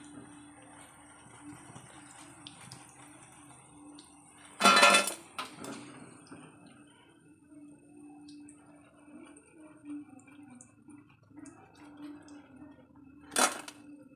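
Crisp fried cauliflower chilli scooped out of a pan, heard as two sharp close metallic scrapes and rattles of a utensil against the pan, separated by a long quiet stretch of low background hum with faint clinks.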